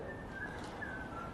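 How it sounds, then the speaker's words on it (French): Someone whistles softly in a quiet lecture room, a few thin wavering tones drifting up and down over a steady background hiss, faint and without speech. "j'ai cru entendre un sifflement."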